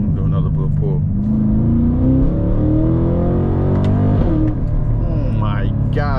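A 668-hp Cadillac CT5-V Blackwing pulls hard, its engine roaring loud and close as the pitch climbs steadily through the revs, with a brief dip near the end like a shift.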